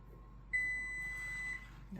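A kitchen oven gives a single long electronic beep after preheating for a pecan pie, a clear steady tone lasting about a second over a quiet room.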